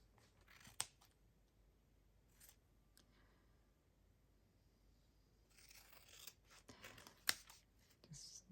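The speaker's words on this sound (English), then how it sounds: "Just snip it off." Scissors snip through journal card paper in a quiet room, a couple of crisp isolated cuts with brief rustling handling noise between them.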